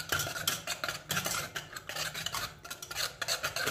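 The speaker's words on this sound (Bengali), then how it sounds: "এবার মিশ্রণটাকে ঘুটনি দিয়ে ভালো করে ঘেঁটে নিল।" A wooden whisk stirs a hilsa fish mixture in a pot, scraping and swishing in quick, uneven strokes with brief pauses, close and fairly loud, no voices.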